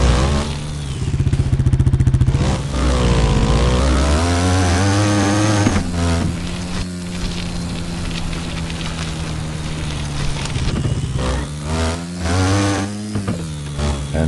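A Can-Am Renegade ATV engine in the Off Road Outlaws video game buzzes loudly through a wheelie. It revs up and down in surges, with a harsh rasping tone and brief drops between bursts.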